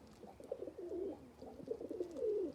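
Pigeons or doves on the ground give soft, low cooing calls close by, in two rolling phrases separated by a short pause.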